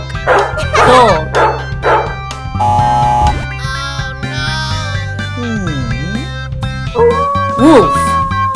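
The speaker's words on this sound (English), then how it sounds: "Dog! Dog!" A dog barks and yips several times in quick bursts during an animal quiz game, mixed with whimpers, cartoon sound effects and music.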